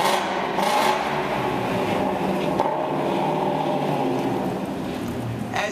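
A naturally aspirated 500-horsepower Ford performance car engine runs loud and steady for about six seconds. It makes a dense, continuous roar with no talk over it.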